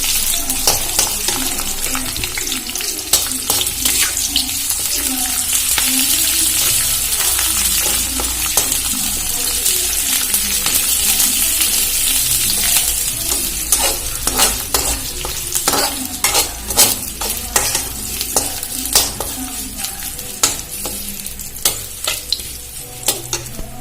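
Washed and dried curry leaves frying in hot oil for chire bhaja, a continuous bright sizzle with frequent sharp scraping stirs of a utensil in the pan, close and loud throughout.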